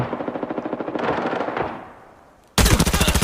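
Automatic gunfire in the shooter video game Arena Breakout, with rapid rhythmic bursts that trail off into a fading echo before a sudden, loud new burst of fire.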